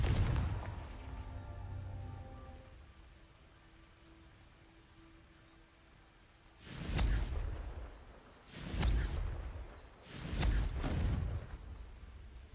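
A Confringo fire spell cast in Hogwarts Legacy: after a faint fading tone over quiet background, three loud whooshing bursts of fiery blast follow one another about a second and a half apart.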